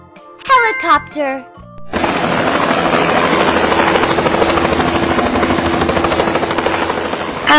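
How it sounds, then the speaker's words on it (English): Short jingling chimes give way to a steady, loud helicopter rotor drone with a rapid rhythmic chop, holding constant and close for several seconds. "Helicopter."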